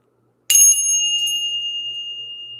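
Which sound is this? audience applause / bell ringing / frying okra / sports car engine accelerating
bell ringing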